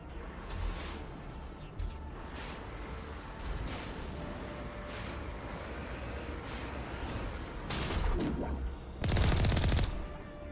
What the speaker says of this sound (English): Someone is trying to shoot me.